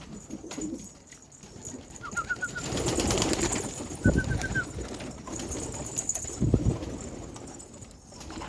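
A flock of pigeons being trained to fly in the evening, with a soft, steady rumble of wings and coos. A few short high calls cut through the wash, close by, with no talk.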